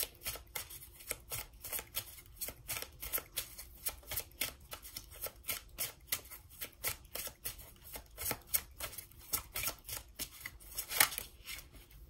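Tarot cards drawn and shuffled from a deck, a steady run of crisp, papery flicks and snaps repeating at a quick, uneven rhythm, close and fairly soft, with no voices.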